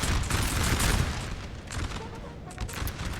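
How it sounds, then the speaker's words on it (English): Dense musket volleys and cannon fire from a Napoleonic-era battle in the Napoleon Total War video game, a continuous rolling crackle of gunfire with booms, loud throughout. "You can see where the cannon shots go."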